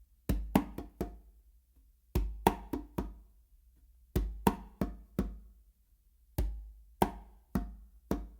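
Two congas play a modern funk pattern of sharp slaps and lighter taps, struck in short grouped bursts with brief pauses between phrases, close and alone.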